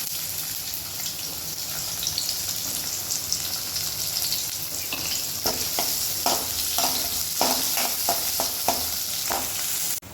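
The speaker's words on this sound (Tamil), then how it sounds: "சோம்பு நல்லா பொரியவும் சின்ன வெங்காயம் சேர்த்துக்கலாம்." Fennel seeds and small shallots frying in hot oil for a mushroom gravy: continuous close sizzle, with a run of crackling pops and spoon scrapes in the second half, no voices.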